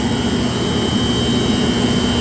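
Large industrial chiller compressor in a plant room, driven by a motor about four feet long, running with a loud, steady drone and a constant high whine, with no talk.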